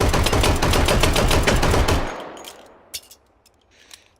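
Rapid M1911 A1 .45 pistol fire in the H3VR VR shooting game at an indoor range, a dense fast string of loud shots for about two seconds, then a few scattered clicks and clanks as it fades.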